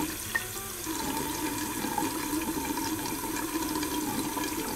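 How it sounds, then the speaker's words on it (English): Paintbrush bristles being rinsed in running water, a steady close splashing and trickling flow that continues without pause and with no voices. "I will rinse the bristles in water and add soap to the bristles"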